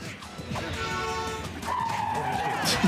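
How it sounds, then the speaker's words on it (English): Car engines and skidding tires in a Teenage Mutant Ninja Turtles video game, played on a GameCube controller, with tonal engine whine and screeching slides over a busy game soundtrack while people talk over it. "Car sound effects sound like we're doing them."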